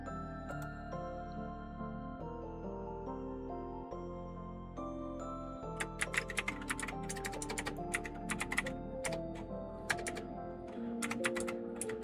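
Quick keyboard clicks patter in rapid runs over soft background music, starting about halfway through and continuing in uneven bursts.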